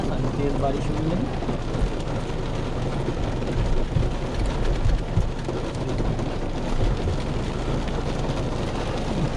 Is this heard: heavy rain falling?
yes